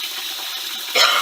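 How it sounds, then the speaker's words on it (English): Water runs from a tap, a steady hiss that swells into a louder gush near the end as the filling finishes, close by with no voices. "Oh goody, that's the water filled up."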